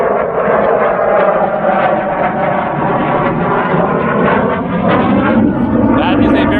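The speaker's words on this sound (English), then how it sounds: "That is a very different plane from the big one that we were seeing before." A propeller plane, smaller than an earlier large aircraft, drones steadily overhead at an archaeological site in the Greek islands, a loud continuous engine roar filling the whole stretch without pause.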